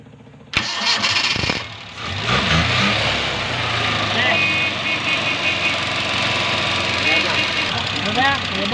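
A Multicab with a six-valve F6A engine cranks and fires after a short pause, then settles into a steady, slightly rough idle close by, with people talking over the running engine.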